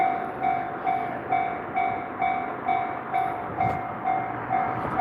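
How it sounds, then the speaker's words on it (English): Goods train passing through the hillside town of Onomichi, Japan: a steady, regular clickety-clack of wheels over rail joints about twice a second, with a sustained tonal hum over a moderately loud rumble, and no talk. "It's probably a goods train."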